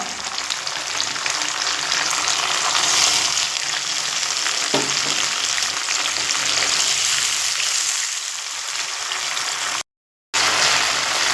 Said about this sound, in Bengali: এবার দিয়ে দেব সেই বাটা মশলা যে মশলা আমি শিলপাটাতে বেটে নিয়েছি দিয়ে দেব অল্প একটু জল